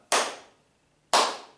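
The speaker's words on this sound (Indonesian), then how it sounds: "dia hanya menggunakan tepuk tangan" Two sharp hand claps about a second apart, each ringing briefly before fading, in an otherwise quiet room.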